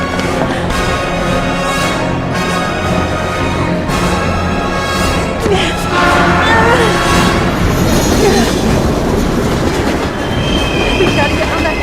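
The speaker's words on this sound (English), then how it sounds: "Train, Ethan." Loud train rushing past in the video game Heavy Rain, a steady rumbling roar with rattling wheels and metallic squeals building through the middle and continuing to the end.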